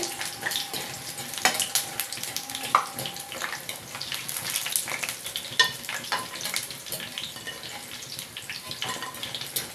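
Battered okra fritters deep-frying in oil, a busy, crackling sizzle with constant small pops at moderate loudness throughout.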